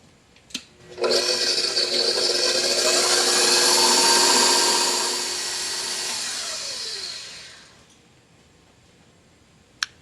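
An electric mixer whirs through gluten-free cake batter for a raspberry layer cake, starting abruptly, running loud and steady for several seconds, then easing to a lower speed before stopping, with a light clack at each end.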